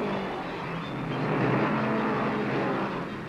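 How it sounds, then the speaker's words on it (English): A 1962 Pontiac stock car racing at Bridgehampton Raceway, dense engine roar from the field filling the track, loud and continuous with a slight swell in the middle. "A 62 Pontiac, pulled by Worth McMillian, jockeys for position on a treacherous downhill curve."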